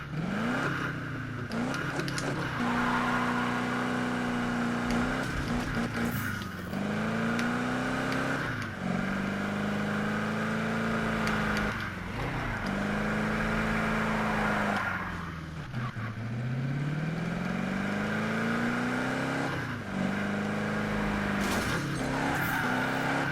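A 1932 Ford Roadster hot rod engine drones steadily nearby, its pitch rising and falling through repeated acceleration and deceleration, with occasional tire squeals on turns.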